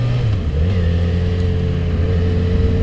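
A Yamaha XJ6 motorcycle riding along, its engine holding a steady close drone with a slight pitch rise at the start, loud and continuous with no talk.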